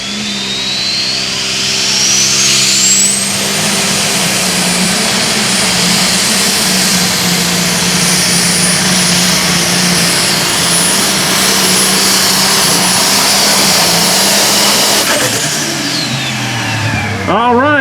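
Diesel International lightweight super stock pulling tractor roaring loud and close through a full run, engine note climbing high and holding steady before dropping away at the end.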